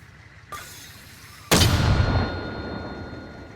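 Gunfire and mortar fire at a combat front: a lighter shot sounds, then a heavy booming blast follows that rolls on and slowly decays, loud and close.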